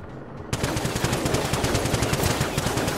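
Gunfire in the video game Generation Zero, starting abruptly after a brief quiet moment and continuing as a loud, dense, rapid automatic burst of shots that does not stop.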